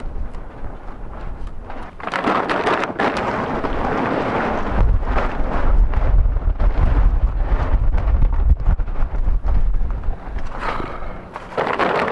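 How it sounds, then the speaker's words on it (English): Gusty outdoor wind buffets the microphone in heavy, continuous low rumbling bursts, loud and close for most of the stretch, with no speech. "This wind is killing me."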